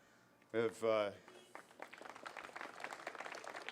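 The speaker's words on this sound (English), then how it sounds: "We can hold the applause because we've got a number of introductions to do here." Ceremony audience at a 9/11 remembrance event breaks into applause after a short spoken line, a rising scatter of many hands that grows denser and continues under the room.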